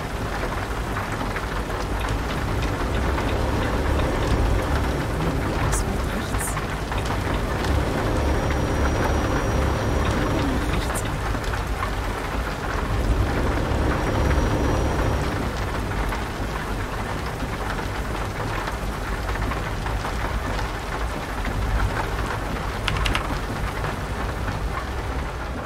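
Rain pours in Euro Truck Simulator 2, a dense, even hiss with occasional distant thunder, loud and steady throughout, with no voices.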